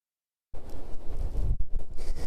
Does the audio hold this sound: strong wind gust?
yes